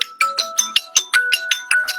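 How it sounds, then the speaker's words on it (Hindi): A mobile phone ringtone sounds during an online meeting: a quick repeating electronic melody of bright, evenly spaced notes, about ten in two seconds, with no talking over it. "किसी का फोन बज रहा है।"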